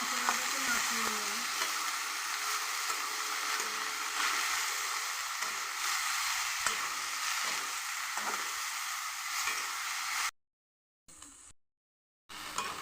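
Taro stolons fry in a pan with spices for a taro stolon and shrimp curry. A constant close sizzle carries intermittent scraping stir sounds and cuts out briefly near the end.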